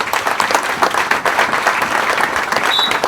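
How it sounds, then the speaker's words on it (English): Applause from a crowd at a high school football event, Berea-Midpark at Avon in Ohio, a steady loud wash of clapping that holds for the whole stretch with no voices on top. "let's give them a big round of applause"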